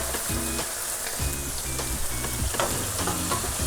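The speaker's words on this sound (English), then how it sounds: "we're gonna wanna bring it down with the skin side down and get it right on top of the Zesty Italian dressing" Salmon fries skin side down in Zesty Italian dressing, a constant crackling sizzle with small pops scattered through it. It is heard close up and alone.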